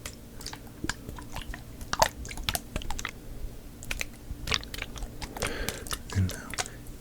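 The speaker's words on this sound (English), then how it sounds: "listen to the water as it swishes around in the spray bottle here" Water swishes and sloshes inside a plastic spray bottle during a quiet, close-up relaxation session: soft, uneven handling sounds with scattered light clicks and taps, some louder, close to the microphone.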